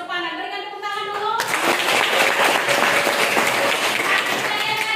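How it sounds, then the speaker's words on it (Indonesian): A classroom of students applauds a classmate's correct answer, with clapping bursting in after a brief spoken line and holding steady and fairly loud through the rest, voices trailing in at the close. "Berikan tepuk tangan dulu"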